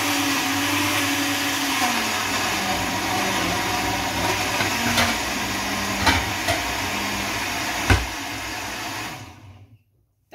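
A blender roughly blends pepper for Efo Riro, a loud continuous motor whir with grinding texture and occasional knocks that runs for several seconds before cutting off abruptly into silence.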